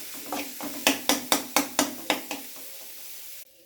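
Crushed ginger and garlic sauté in a pan for tuna masala, with a soft sizzle under a run of about seven evenly spaced utensil taps against the pan that fade out near the end.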